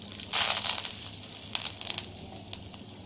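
Mustard seeds and curry leaves hit hot oil while cooking a snake gourd kootu, giving a loud crackling sizzle that bursts early, then settles into lighter spattering pops and hiss.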